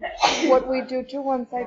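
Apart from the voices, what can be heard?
sneeze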